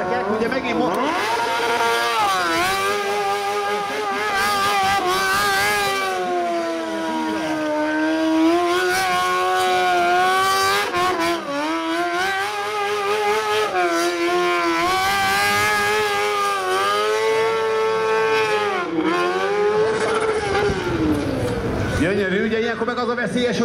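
A streetfighter motorcycle revs and whines continuously during stunt riding at a streetfighter show, its engine note rising and falling under loud commentary over a public address system.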